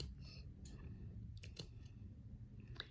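Scissors snipping through fabric while sewing a small stuffed Easter toy near the seam, a few quiet sparse cuts over a low background hum.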